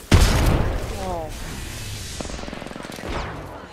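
Grenade blasts in an online shooter game, a loud broadband boom up front followed by rumbling game noise and scattered impacts, with players talking over the action.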